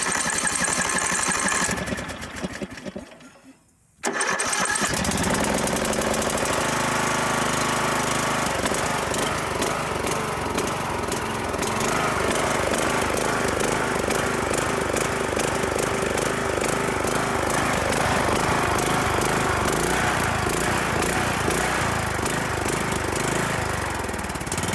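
A Troy-Bilt garden tractor engine cranks briefly, cuts out for a moment and then catches. It settles into a loud, steady, close running chug that holds for about twenty seconds with a rough, knocking rhythm.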